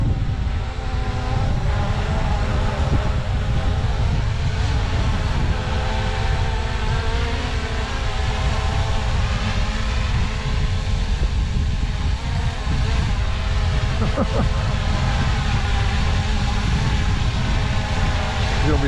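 A Holy Stone HS600D drone flies outdoors in high wind. A steady, dense whir of rotors and wind roar stays loud and unbroken throughout.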